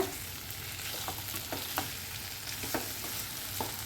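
Chicken coated in masala powder is stirred in hot oil for Tamil pepper chicken, a steady low sizzle with soft scraping strokes recurring about every second, close and alone.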